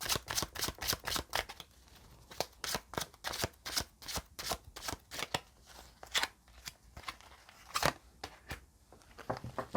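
Tarot cards shuffled and drawn by hand, a rapid run of crisp riffling snaps and slaps in quick irregular bursts, close and clear in a quiet room with no talk.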